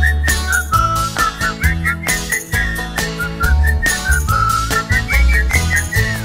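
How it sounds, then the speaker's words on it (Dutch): Children whistle loudly in a group along with an upbeat dance song, a bright wavering melody riding over thumping bass and steady beat. "We gaan met z'n allen fluiten."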